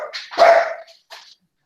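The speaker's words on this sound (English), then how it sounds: "Even the dogs are excited about this." A dog gives one sharp, close bark followed by a shorter, fainter yip, loud against an otherwise quiet background with no talking.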